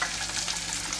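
Onion, capsicum and potato frying in a pan over a medium flame for palak pulao: a steady, close hiss of sizzling oil, continuous and even throughout.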